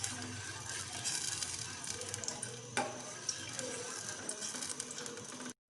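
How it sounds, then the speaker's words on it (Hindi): Hair-fall remedy mixture heating in a pot as it starts to boil, giving a quiet bubbling sizzle with occasional spoon stirs and a clink, then abruptly cut off near the end. "इसका उबाल आने लग गया है"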